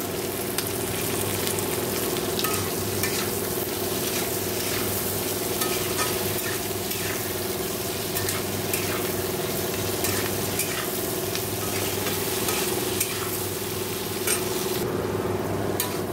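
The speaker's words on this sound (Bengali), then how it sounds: "দেখো হালকা করে ভেজে নেওয়া হয়ে গেছে" Rice and chicken frying lightly in a pan for fried rice and chilli chicken, with a loud, continuous sizzle and a steady hum, plus frequent stirring scrapes throughout.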